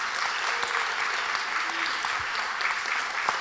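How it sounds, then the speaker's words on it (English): A congregation gathered for a Guatemala partnership celebration breaks into steady applause, many hands clapping together in a dense, even patter that holds at moderate volume throughout. "So everyone who's ever traveled to Ipala, let's applaud that over the years."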